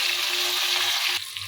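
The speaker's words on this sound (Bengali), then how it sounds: "এখন এগুলোকে একটু কিছু করে লাল লাল করে ভেজে দিতে হবে" Koi fish frying in oil in a pan until reddish-brown, a dense close sizzle with a faint steady tone underneath, dropping suddenly to a softer crackle near the end.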